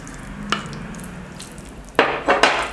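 Mutton curry being mixed into potatoes in a pan makes soft scraping and stirring noises, with a few sharp clinks of the spoon against the pan near the end.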